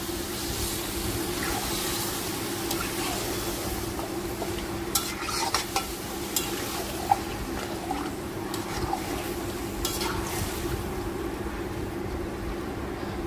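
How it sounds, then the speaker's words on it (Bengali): Marinated mutton stirred and fried in oil in a home kitchen pot, giving a continuous close sizzle with scraping spoon strokes and occasional clinks throughout, no talk. "মাংসটা দিয়ে তেলের সঙ্গে আমি ভালো করে আবার নেড়ে চেড়ে একটু রান্না করে নেব"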